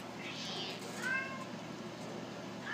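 A cat gives a short meow, moderately close, against quiet room noise.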